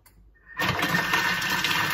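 A Thermomix food processor at speed 4 chops turnip for pot-au-feu, starting after a brief quiet moment into a loud, steady whirring blade drone that continues to the end, with no talking.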